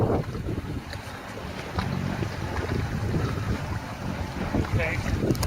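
Sailing yacht heading out of Plymouth on a sunny morning, with steady wind buffeting the microphone and water washing against the hull, broadband and close throughout.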